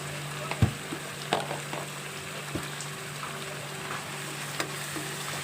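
Onion paste with salt and chili cooking in a pan, a soft continuous sizzle broken by a few clinks and scrapes of stirring, with no one talking.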